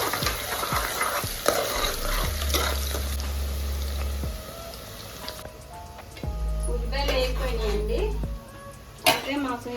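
Onions and green chillies fry in hot oil for a mutton head curry, a steady broadband sizzle with bursts of stirring, while a person talks over parts of it.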